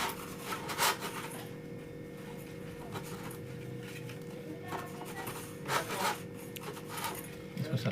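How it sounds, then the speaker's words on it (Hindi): Radiator fan motor armature pins on a van being rubbed clean, repeated close scraping and rasping strokes in an uneven rhythm, with a low mains hum beneath and no speech. "इसको हम थोड़ा रगड़ के साफ़ कर लेंगे और ये अंदर की भी इसको साफ़ कर लेंगे"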